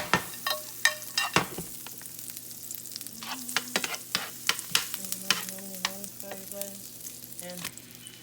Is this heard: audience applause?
no